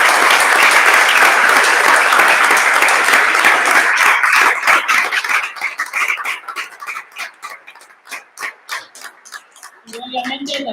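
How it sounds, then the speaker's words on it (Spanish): An audience applauds the Junta Interna at a public health financing talk: dense, loud clapping for about four seconds that thins into scattered individual claps and fades, followed by a voice at the end. "quería un gran aplauso para ellos."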